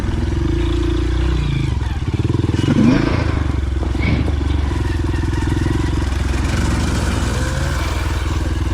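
A Honda CRF230F dirt bike idles and putters loudly up close on a trail while turning around, a steady thumping engine with light clatter and small throttle blips, and faint voices under it.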